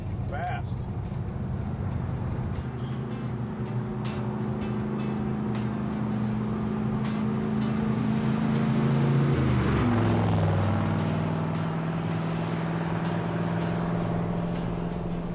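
1967 Corvette C2 V8 engine idling with a deep, steady rumble close by, its revs rising slightly midway and then settling into a lower, even burble.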